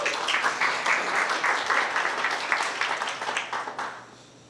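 A room full of people applauding eXp real estate agents at a presentation, a brisk dense clatter of clapping that thins out and fades toward the end.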